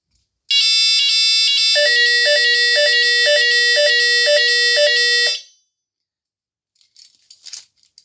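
A Legrand type 4 fire alarm panel, older version, sounds in test mode with a loud, piercing electronic tone pulsing in a fast regular rhythm for about five seconds, then stops, leaving brief faint handling noises.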